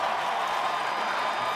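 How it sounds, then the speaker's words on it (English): Stadium crowd at a TCU vs West Virginia college football game roars steadily, a dense, continuous wash of cheering and noise filling the whole moment with no breaks. "Crowd fired up early"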